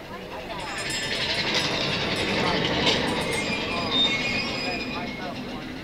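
A theme park ride train arrives, rumbling and rattling steadily along the track with some high wheel squeal, loud and close, while voices murmur in the background.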